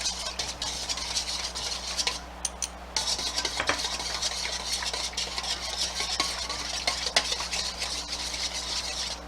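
Yeast mixture and oil being mixed together in a bowl for steamed bun dough, a continuous close wet stirring and scraping with occasional light clinks against the bowl, alone with no voices.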